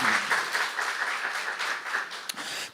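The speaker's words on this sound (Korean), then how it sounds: "박수 한번 주세요." Steady church congregation applause with many hands clapping at an even, moderate level during a Saturday worship sermon, ending in an abrupt louder burst.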